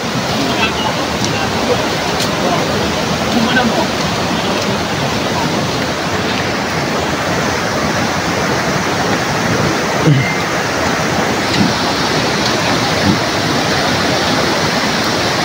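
A strong current of cold spring water from Mount Banahaw rushes at a resort in Majayjay, Laguna, making a loud, steady, unbroken roar throughout.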